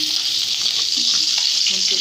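Koi fish sizzles steadily in hot oil in a pan, a close, continuous frying hiss with faint scraping movements underneath and no talking.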